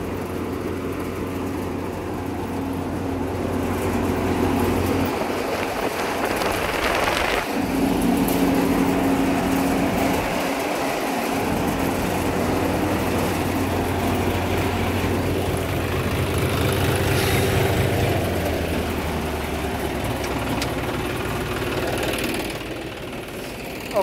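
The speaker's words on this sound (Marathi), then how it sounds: "परत एकदा मशीनची टेस्टिंग घेऊन घेतली." A new Kamdhenu farm machine runs under test with a continuous, loud mechanical drone and rattle that dips briefly twice, with a faint voice under the noise.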